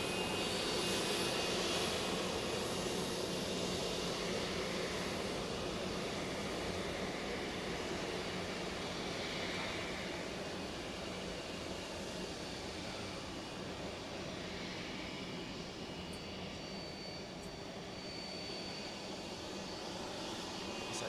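A jet airliner with CFM56 engines at Manchester Airport, a sustained whooshing engine roar at fairly even loudness that eases slightly over time, moderately close with no talk.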